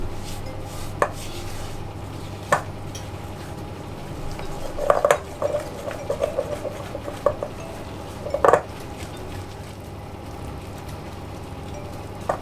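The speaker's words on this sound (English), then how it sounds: "And just mix it all together until it's fully combined." Oat cookie dough with raisins, cranberries and fudge being stirred together in a bowl, giving scattered spoon-and-bowl clinks and scraping knocks at an irregular pace over a quiet kitchen background.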